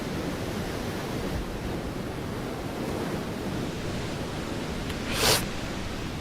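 Steady broadband rushing of a waterfall in a video game, continuous and even throughout with no pauses, plus one brief brighter hiss burst near the end.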